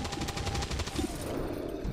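Rapid automatic gunfire from an area suppression attack in XCOM 2 Long War of the Chosen, a dense burst of repeated shots that fades into a quieter rumbling tail.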